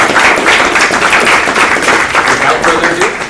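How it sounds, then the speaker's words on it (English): Dense, continuous applause from a crowd, a steady wash of many hands clapping together for a few seconds, fairly loud and close. "we should really be giving her a huge round of applause"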